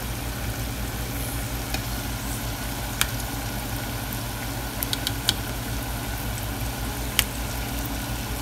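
Food frying in oil in a home kitchen, a steady low sizzle with a background hum, broken by a few sharp clicks and pops scattered through it, no one talking.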